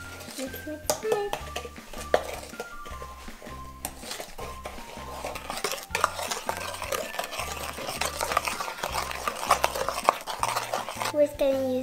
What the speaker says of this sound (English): I'm just gonna mix it. Mix, mix, mix.